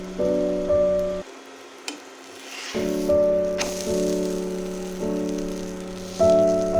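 Red lentil paratha sizzles in oil on a hot pan, a soft steady crackling hiss running beneath louder background music throughout.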